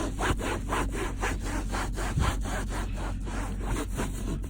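Someone scrubs cleaner into a cloth car seat with rapid back-and-forth strokes, a steady rhythmic rasping about two strokes per second, loud and close with no voices.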